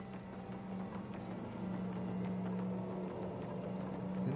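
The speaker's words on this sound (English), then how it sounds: "There's water coming down through here." Steady flowing and pouring water in the video game Oxygen Not Included, a continuous even wash with a low hum underneath, holding level throughout with no talk.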